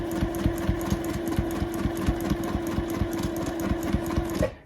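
Sewing machine stitching a cross stitch on a Christmas quilt, a steady rapid mechanical whir with rhythmic needle clatter, close and continuous, stopping abruptly at the end.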